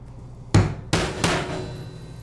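Three sharp hammer blows drive nails to tack a beaver pelt onto a wooden board, close and loud, with a short pause between the first two strikes and a quicker third.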